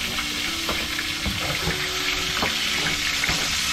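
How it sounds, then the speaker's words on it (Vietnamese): Fish sizzles and crackles as it fries in hot oil in a small pan, a steady loud hiss with scattered pops throughout. "Dầu nó sôi mọi người, bây giờ thì mấy đứa sẽ bỏ cá vào để chiên đi."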